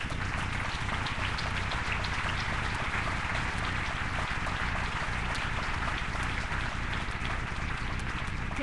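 Audience at a political speech in Puerto Vallarta applauding, dense continuous clapping holding at an even level throughout.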